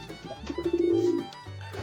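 Pigeons at a pigeon farm in Uluberia, Shyampur give a close, low, throaty coo that swells and holds through the middle, with softer cooing before and after and no talk.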